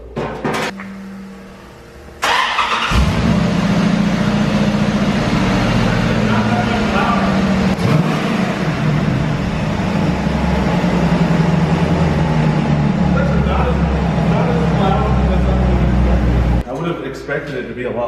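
A car engine cranks and catches for the first time, then idles with a loud, steady low rumble for a long stretch before cutting off, with voices nearby.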